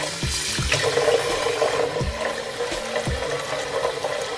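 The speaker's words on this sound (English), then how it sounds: "I'm going to start off with just filling this with some warm water" Warm water runs steadily into a container for a hair refresh, a continuous rushing splash with a few low knocks, close and even, with no talking.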